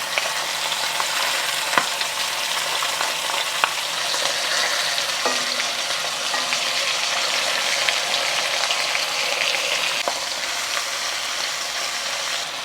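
Chicken pieces marinated in curry paste sizzle and fry steadily in a pan for a Malaysian chicken curry, a loud, continuous crackle with occasional scraping stirs.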